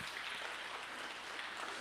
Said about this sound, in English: clap your hands for these hospitals